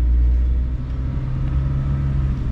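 A 2000 Honda Civic LX with automatic transmission pulls away, its engine giving a steady low rumble close by with a slight rise in revs and no one talking.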